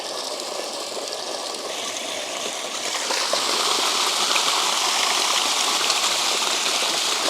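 Water gushing out of the cleanout on a micro hydro intake pipe during a first flush carrying silt and sediment: a steady, close, broadband rush that grows louder and fuller about halfway through, with no one talking.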